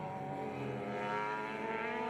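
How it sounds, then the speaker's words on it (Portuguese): A Ducati Panigale racing motorcycle engine howls at high revs in a race, a loud sustained harmonic whine with a deep rumble, holding steady throughout. "Na frente era notável o barulho mais grave do motor da Ducati Panigale de Javi Forés"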